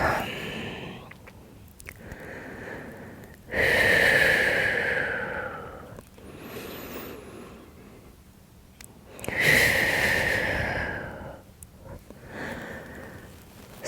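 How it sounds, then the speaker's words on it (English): Slow, deep breaths during a yoga session, two long loud airy exhales standing out clearly between quieter inhales, close to the listener with no talk over them. "Nice big breaths in. And long breaths out."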